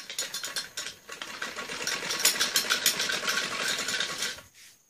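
Sewing machine stitching trouser pieces, a fast rattling mechanical run of needle strokes that holds steady for about four seconds, then stops, with a softer brief whir at the end and no talk.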